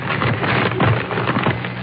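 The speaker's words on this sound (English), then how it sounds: "Then, a rustling of paper." A paper-rustling sound effect on an old radio broadcast gives a continuous crinkly, crackling rustle with small irregular pops, moderately loud, muffled and band-limited, with no voices.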